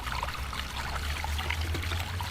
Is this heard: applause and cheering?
no